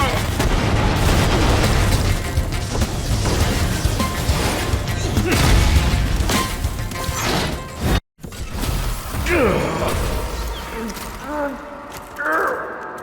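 A missile explodes in the video game F.I.S.T.: Forged In Shadow Torch, a loud, dense roar of blasts and rumble that runs for several seconds, cuts out briefly, then gives way to smaller bursts and whooshes with voices heard.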